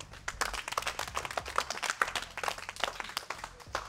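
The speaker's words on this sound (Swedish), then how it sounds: "då ger vi honom en applåd." Applause for Sami at a Swedish martial arts training session, a group clapping steadily at close range for several seconds with dense overlapping claps.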